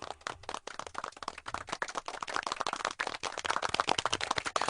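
An audience claps at a live comedy show in Rajkot, a dense, continuous patter of many hands applauding at close range for several seconds.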